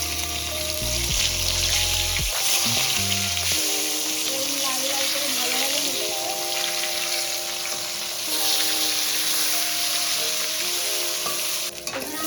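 Pieces of chitol fish fry steadily in hot oil, a continuous close sizzle and bubbling with occasional stirring, while a voice speaks briefly at the start.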